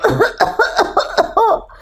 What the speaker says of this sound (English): while he was eating the guavas, he started coughing.